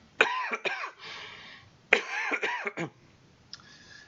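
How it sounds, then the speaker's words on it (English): Coughing and throat clearing from a man who choked on water, two loud harsh coughing bursts with rasping throat clearing, close and alone, ending in a brief faint sound. "As if I wasn't coughing and clearing my throat enough."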